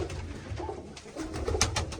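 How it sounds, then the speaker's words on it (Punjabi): Pigeons coo in a loft filled with birds, a dense overlapping chorus of soft throaty calls close by, with brief flutters mixed in. "ਬਹੁਤ ਸੋਹਣਾ ਲੱਗਦਾ ਬਈ ਸਾਰਾ ਖੁੱਡਾ ਕਬੂਤਰਾਂ ਦੇ ਨਾਲ ਭਰਿਆ ਹੋਇਆ"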